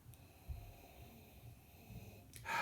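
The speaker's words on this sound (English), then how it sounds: "you gotta really sniff down in there to get some booze notes" Someone sniffs deeply at a glass of Old Nation Boss Tweed double IPA, giving faint, breathy nasal draws close to the mic that end in a louder rushing exhale.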